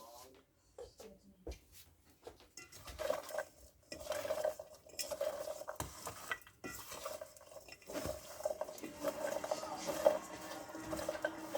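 Cauliflower being mixed in a pan with a utensil, a run of close clattering scrapes and taps against the metal, soft at first and then busier and louder, with a voice talking at times.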